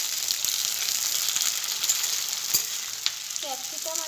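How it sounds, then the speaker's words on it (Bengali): Diced capsicum and onion fry in a pan with a steady, close sizzle and crackle, broken by occasional stirring clatters, with no talk over it. "ক্যাপসিকাম আর পেঁয়াজটাকে ভালো করে ভেজে নেব।"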